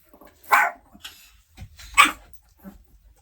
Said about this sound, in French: elle aboie les pigeons